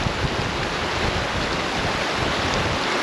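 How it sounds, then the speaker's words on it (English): Strong wind roars and buffets the microphone on an exposed Scottish mountain trail along a ridge, a constant loud rush with no voices. "A bit windy."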